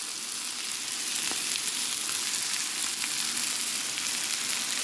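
Salmon fillets fry in a pan with a steady, dense sizzle that hisses evenly throughout, close and fairly loud, with no voices over it.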